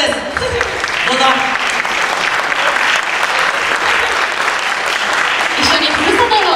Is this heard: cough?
no